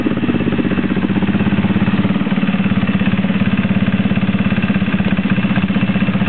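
A small two-stroke engine, freshly rebuilt and breaking in, runs loud and steady, its rapid, even putter close by, with no voices.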